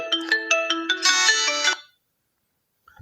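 A phone ringtone plays a bright electronic melody of several quick tones for under two seconds, then stops, leaving silence.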